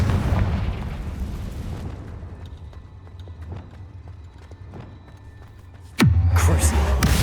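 Confringo blasting spell in Hogwarts Legacy: a fading rumble with scattered faint crackles gives way to a sudden, loud explosive burst near the end, with no talking.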